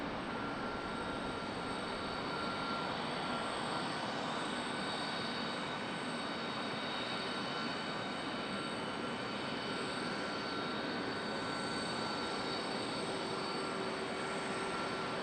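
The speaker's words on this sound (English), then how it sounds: "Air Canada getting a move on" An Air Canada airliner moves at Charlotte Douglas International Airport, giving a steady broad jet roar with a faint high whine, sustained and fairly distant throughout.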